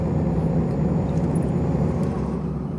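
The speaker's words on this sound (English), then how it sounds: "this is my truck, Scania S" Steady, loud low engine drone of a Scania S truck in Euro Truck Simulator 2, a continuous game-engine rumble at even level throughout with no voices.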